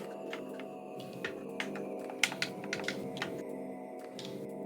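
Typing on a streamer's computer keyboard: a fast, uneven run of close, crisp key clicks and clacks over a faint steady hum, with no one speaking.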